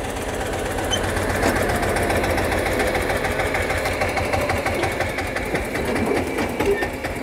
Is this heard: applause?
no